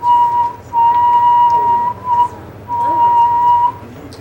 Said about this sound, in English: You can make whistles.